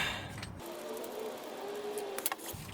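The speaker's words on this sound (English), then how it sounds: "So I'll go ahead and just screw that on." A cleaned differential drain plug with a new washer being screwed back into a car's manual transmission differential, heard as close, soft metallic turning and scraping with a couple of light clicks over a steady background hum.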